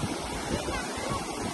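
High-tide sea waves at Ladghar beach near Dapoli on the Konkan coast wash in as a steady broad roar, moderately loud with some wind buffeting the microphone and no talking.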